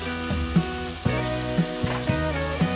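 Ginger-chilli paste sizzles loudly in a hot pan as turmeric is stirred in, with steady frying hiss broken by regular scraping strokes of a spoon.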